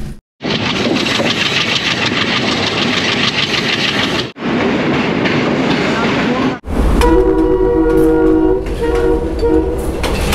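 A train rumbles and clatters loudly through Colombo railway station in Sri Lanka, the noise dropping out briefly twice before a quieter stretch where a horn-like tone hums under distant station sounds.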